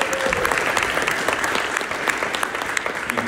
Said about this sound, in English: can I get a round of applause for Tracy?